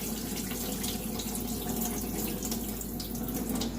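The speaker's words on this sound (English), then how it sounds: "run water on it, and give it a good wash." Tap water runs in a constant rushing stream over collard greens being washed in a sink, a close steady flow without talk.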